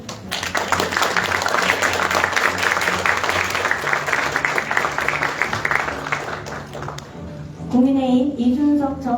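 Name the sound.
audience applause welcoming guests at party convention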